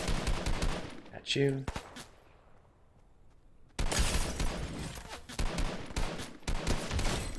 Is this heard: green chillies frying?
no